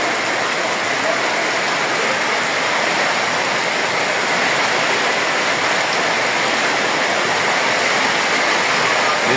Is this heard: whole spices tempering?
no